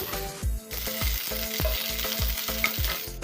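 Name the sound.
onions and bay leaves frying in oil for pork curry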